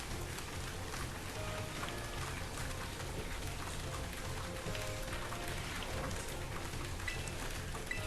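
Steady rain falls outside, a constant, even hiss of drops on surfaces heard from indoors, moderately faint and unbroken throughout.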